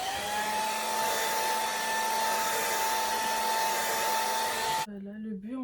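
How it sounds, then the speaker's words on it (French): A hair dryer blows steadily and loudly close by while styling a wig, a constant whooshing hum that cuts off abruptly near the end, leaving a brief lower whine. "On reprend les sèche-cheveux et on passe encore 5 secondes."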